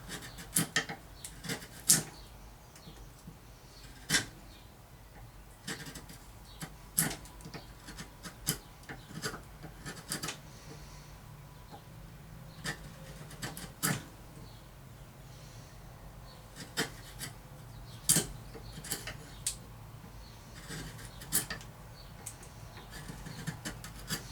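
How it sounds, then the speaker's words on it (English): A chisel pares waste wood from a guitar headstock in a series of irregular, close, sharp scraping and shaving strokes, some louder than others, with quiet pauses between them and no talking. "the easiest way to do this is with your chisel"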